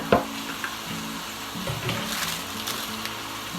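Ground beef seasoned with salt and pepper browning in a pan, a steady close sizzle and crackle with a sharp scrape or knock at the start.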